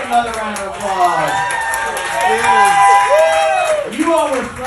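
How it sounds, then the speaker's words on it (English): A live bar-show crowd cheers, whoops and claps in a loud, continuous swell, with excited voices shouting over the din throughout. "Give her a fucking another round of applause."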